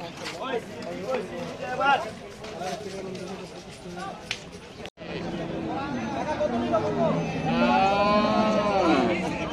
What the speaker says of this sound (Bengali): দুটি সুন্দর গরু আসছে ভাই